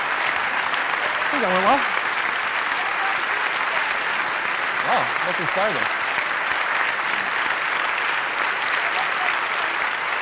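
A large GDC audience applauds after a talk on Spore, a thick, sustained roar of clapping that runs the whole time while someone speaks briefly over it.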